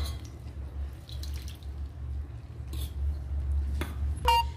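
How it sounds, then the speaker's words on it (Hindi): Water is poured from a glass, little by little, into a bowl of besan batter, giving soft, close, intermittent trickling and splashing over a low background hum, with a light clink near the end. "यहाँ हमने ये गिलास पानी ले लिया है। अब हम इसमें थोड़ा थोड़ा करके डालते हैं।"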